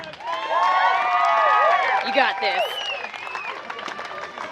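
Guests at a wedding toast clap and cheer loudly, with whoops and shouts rising over the applause before it tapers off, and a voice calls out briefly amid the noise.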